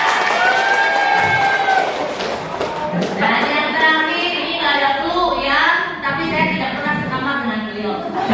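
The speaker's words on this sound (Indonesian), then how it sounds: "Tepuk tangan yang meriah" Audience at a school talk show in Indonesia clapping and cheering for a teacher, with lively shouts and children's voices over scattered clapping, loud and close.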